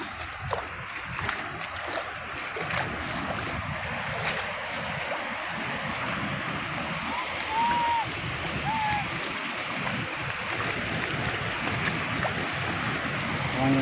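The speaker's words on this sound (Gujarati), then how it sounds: "પાણીનો અવાજ આવે છે મસ્ત મજાનો" A river beside a rural road rushes steadily as a broad, continuous wash of water, with occasional faint bird calls and muffled background voices.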